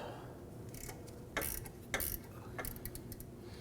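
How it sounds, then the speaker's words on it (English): An E8 Torx bit turns on a stud during alternator removal on a 2008-2011 Ford Focus, giving a few faint, brief metallic clicks and ratchet-like ticks, with no one talking. "we're going to switch over to our E8 Torx bit. I need to see if we can loosen this stud here"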